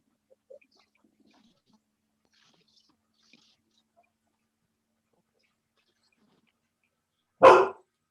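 After long near-silence, a pet dog lets out one short, sharp bark close by.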